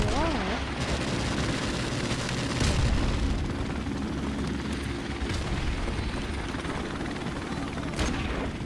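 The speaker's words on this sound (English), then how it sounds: "Enemy helicopter inbound." An enemy helicopter rumbles in Modern Warfare Remastered multiplayer, a heavy continuous rotor drone mixed with distant gunfire and explosions at steady volume.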